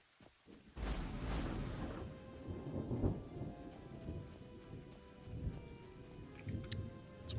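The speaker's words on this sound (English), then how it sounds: "It's one of those, like, comforting thunder sounds" A loud thunderclap breaks and rolls on in the video game Oblivion, its long rumble fading slowly under steady rainfall that continues throughout the stormy scene.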